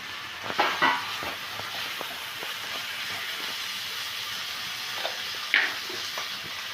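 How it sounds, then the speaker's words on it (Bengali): Fried okra stirred with spice paste and a little salt in oil, a soft steady sizzle with intermittent scraping and a few louder spoon knocks. "আমি ঢ্যাঁড়সটা কিন্তু মশলার সাথে ভালো করে কষিয়ে নিয়েছি"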